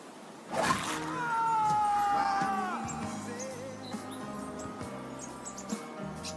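A cat meows with a drawn-out, wavering cry, followed by softer fragments amid background noise and movement.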